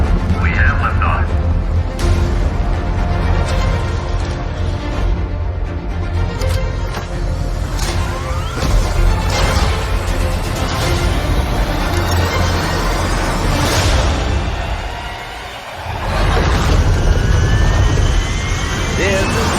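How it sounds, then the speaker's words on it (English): A rocket lifts off in a movie trailer with a long, loud roaring rumble that swells and sustains, a brief dip near the end before the roar returns, and a voice speaking over it. "We have liftoff."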